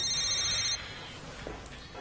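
A telephone bell rings loudly in steady bursts for under a second, then cuts off, leaving a quiet room with faint rustling.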